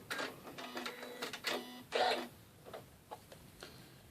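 A Janome Skyline S7 sewing machine, fitted with its regular foot, stitches through vinyl in short, uneven bursts of rapid mechanical clatter, each run stopping and starting at close range.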